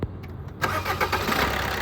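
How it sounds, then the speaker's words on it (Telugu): A 2017 Maruti Ertiga ZDi+ diesel starts on the first crank: a short starter whirr, then the engine catches into a steady, close diesel idle rumble. "సింగిల్ సెల్ఫ్లో బండి స్టార్ట్ అవుతుంది సార్."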